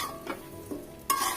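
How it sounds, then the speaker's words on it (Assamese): Jolpai olives are stirred with sugar by hand, giving a few soft, close, wet rustling strokes with a brighter scrape near the end. "চেনি দি দিয়াৰ পিছত মই হাতেৰে ভালদৰে লৰাই থাকিম।"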